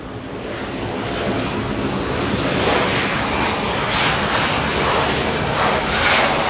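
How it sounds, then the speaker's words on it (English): A SkyWest Embraer E175 jet arriving at Los Angeles International Airport gives a broad, steady engine roar with a rushing hiss that swells slightly, strong and sustained, with no voices. "Skywest 3755, a little Embraer E175"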